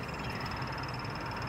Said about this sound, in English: That's the really fast beeping that you hear.